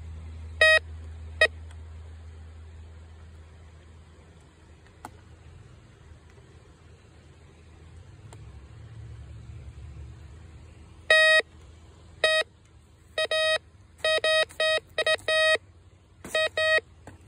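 A metal detector beeps as it sweeps over a stone in a river, sharp electronic tones coming singly at first, then in a rapid irregular burst of repeated beeps over quiet flowing-water hiss.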